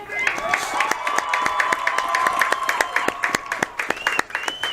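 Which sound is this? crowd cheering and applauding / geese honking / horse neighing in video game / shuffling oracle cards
crowd cheering and applauding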